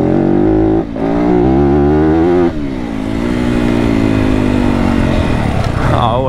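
Yamaha WR250F dirt bike engine running loud and close while riding, a steady harmonic drone with brief throttle dips before the revs climb again near the end.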